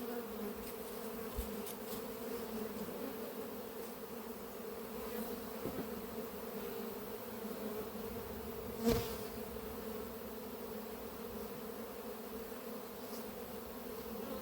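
A honeybee colony with a drone-laying fault is shaken out at an apiary, and a steady, close swarm buzz drones on for about fourteen seconds with a few faint knocks, without speech.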